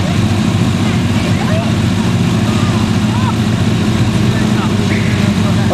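A Kawasaki Ninja motorbike idles at Dubai Autodrome, a steady, loud, low engine rumble that runs unbroken throughout, with a constant broadband roar over it and possible faint voices in the background.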